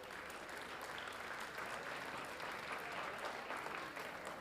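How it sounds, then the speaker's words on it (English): An audience at a public safety awards event applauds for the sponsors, a steady, even wash of clapping heard from a distance and fairly faint. "How about a round of applause for the sponsors?"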